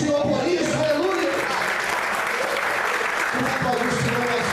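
Church congregation applauding during a sermon, a steady wash of dense clapping filling the space, with a voice speaking over it.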